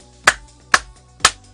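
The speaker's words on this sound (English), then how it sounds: "I'm going to clap." Three sharp, evenly spaced hand claps from a single person, close and distinct against a quiet background.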